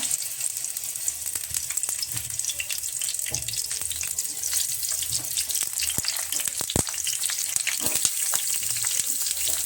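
Eggplant pieces frying in well-heated oil for an eggplant gojju, a steady close sizzle and crackle running throughout with scattered sharp pops and spatters.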